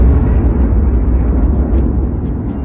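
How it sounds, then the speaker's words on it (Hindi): A huge explosion sound effect depicting a cosmic blast in space, a loud, sustained, deep rumbling roar that holds steady throughout without any voices. "बीच के इस भयंकर दबाव के कारण एक विशाल विस्फोट हुआ"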